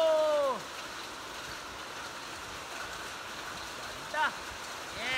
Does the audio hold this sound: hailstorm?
yes